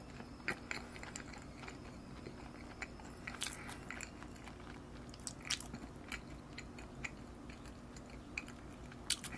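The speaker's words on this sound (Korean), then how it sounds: "혓바닥으로 참치회를 눌러주면서 살살 녹여 먹고 있어" Quiet close-up chewing of tuna sashimi and rice wrapped in seaweed, with soft irregular bites and small wet crunches throughout.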